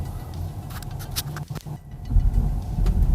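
A 2019 Buick Velite 6 electric car pulls out of a car park in Shanghai. A low rolling rumble swells and grows louder in the final second, after a few light clicks and taps.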